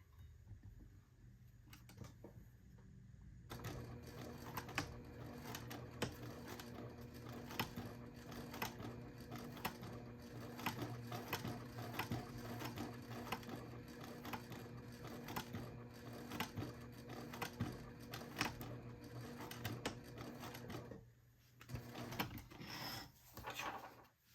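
A sewing machine top stitches a wristlet, its needle running in a fast, steady mechanical chatter for about twenty seconds, starting abruptly after a quiet moment and pausing briefly near the end.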